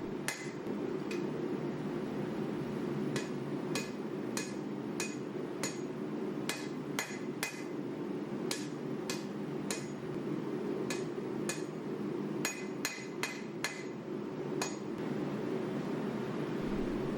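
Hammer blows ring sharply on a steel leaf spring as its tapered edges are forged flat, a long series of loud metallic strikes at an uneven rhythm over a steady low roar of the forge.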